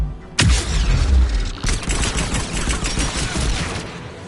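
Guns protecting a tower in Mass Effect, played on Insanity difficulty, fire a loud, sustained barrage of rapid shots that opens with a heavy boom and keeps rattling close and dense throughout, with no talking.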